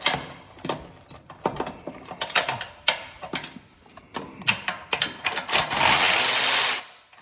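Bracket bolts come off a Cub Cadet ZT1 Ultima zero-turn mower with a run of irregular metallic clicks and clanks, then a loud sustained whirring burst of about a second before it cuts off.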